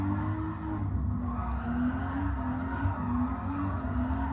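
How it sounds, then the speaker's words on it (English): A classic Jaguar D-Type power slides around the track in Gran Turismo, its engine droning steadily with a sustained tyre squeal over it, loud and constant through the whole stretch with no voices. "how often you gotta see a classic Jaguar D-Type like drifting? Not that I'm really drifting, but you know, power sliding"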